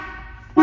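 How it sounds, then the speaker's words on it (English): A 1961 Corvette C1 convertible with a 283 cubic inch engine sounds its horn, a short, bright toot that cuts in abruptly after a quiet moment, close and loud. "Horn sounds wonderful."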